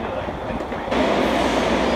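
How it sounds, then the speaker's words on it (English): A San Francisco Muni subway train rides along underground, a steady loud roar of wheels and carriage noise that swells halfway through and holds to the end. "We're on the Muni subway."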